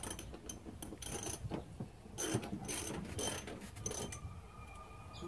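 A ratchet undoes bolts on a Toyota Landcruiser seat, rapid clicking pawl bursts and metallic turning noises in quick repeated strokes, close and moderately loud, no talking.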